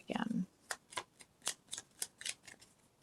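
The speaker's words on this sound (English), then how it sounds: "I know there's smaller cards and I should be able to shuffle it easier, but obviously I can't." A deck of tarot cards is shuffled by hand, a short riffling burst at the start followed by a series of separate crisp card slaps and flicks at irregular intervals, close and clear, with a voice heard briefly.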